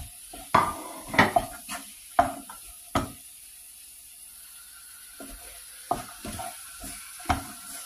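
Chopped green chillies, sugar and turmeric are mixed in a frying pan, with a quiet sizzle and sharp, irregular clinks and scrapes of a utensil against the pan, separated by a pause.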